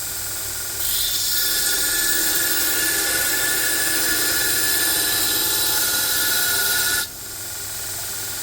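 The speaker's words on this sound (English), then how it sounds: "you can start at the tip and grind backwards, and that'll make sure you're not forcing all the heat down into that area" A damaged Dalstrong knife is ground from the tip backwards during a repair: a loud, steady abrasive hiss starts abruptly, holds for about six seconds, then cuts off, with no voices.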